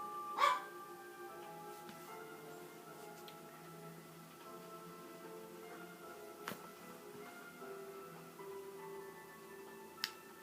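A dog barks outside, heard faintly and at a distance. A few sharp barks come at irregular intervals over a quiet indoor background, with no talking.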